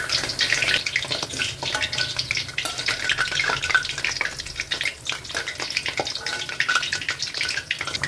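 Vada deep-frying in hot oil, a dense, continuous sizzle and crackle with light stirring scrapes throughout, close and fairly loud, with no voices.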